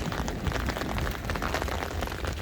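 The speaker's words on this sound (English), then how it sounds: "I now have to come out in the rain in the umbrella with my umbrella." Rain patters on an umbrella held outside beside a Tesla Model 3, a close, busy crackle of drops drumming on the canopy, steady and fairly loud with no voices.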